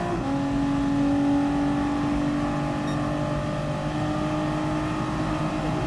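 A Nissan GT-R race car drones steadily in Gran Turismo Sport, its engine holding a close, continuous whine with slight pitch shifts through corners.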